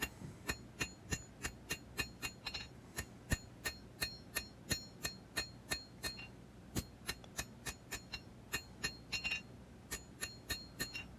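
Hand hammer forging the bevel of a large knife blade on an anvil, a long run of sharp ringing metallic strikes in a steady, quick rhythm, some louder than others, heard close without talking.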